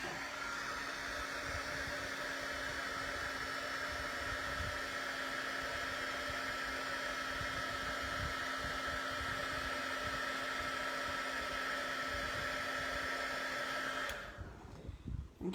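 Handheld heat tool blowing hot air to melt embossing powder for card making, a steady close whirring hum with a constant pitch that holds for about fourteen seconds before cutting off abruptly.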